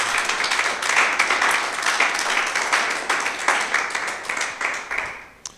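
A church congregation gives loud, sustained applause, a dense crowd of clapping hands that swells and then gradually thins out.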